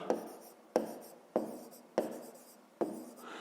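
Pen writing on paper in five separate bursts, each starting with a sharp scratch and fading into a soft scraping stroke, close and alone with no talk.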